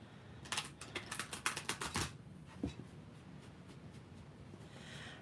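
Tarot cards shuffled by hand, a quick run of crisp riffling snaps and flicks in the first two seconds, then a single tap and near quiet, close up with no talking.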